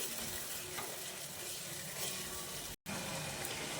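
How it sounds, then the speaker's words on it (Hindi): Garlic and ground green chillies fry with yogurt in a pan for mutton korma, making a quiet, even sizzle that is briefly interrupted by a moment of silence. "लहसुन के साथ इसकी भुनाई करेंगे"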